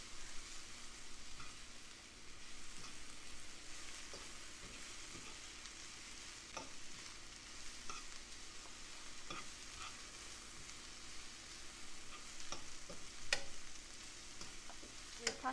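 Sweet potato and small onion fry steadily in a pan, a dense continuous sizzle with scattered pops and occasional stirring scrapes, close up and without talk.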